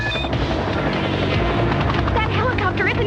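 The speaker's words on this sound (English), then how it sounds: "That helicopter isn't giving up." Helicopter in a 90s James Bond Jr cartoon chase, rotor thrum loud and steady throughout, with gunfire-like bursts and dramatic effects layered over it, no talk.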